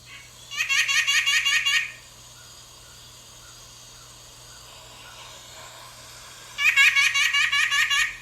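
An Arctic tern calls in two bursts of rapid, harsh, chattering cries about five seconds apart, with near-silence in between. The calls are fairly close and clear over a faint steady background hum.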